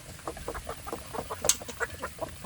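Village chickens clucking in a free-range flock, a busy run of short, soft clucks at close to middle distance with one sharper squawk partway through, no voices.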